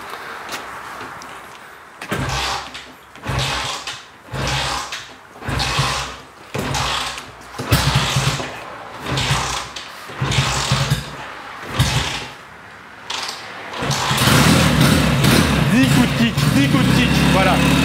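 A vintage Kawasaki 650 W1 motorcycle is kick-started with about ten evenly spaced, heavy kicks, each a short mechanical thump and turnover. The engine then catches and runs loudly near the end.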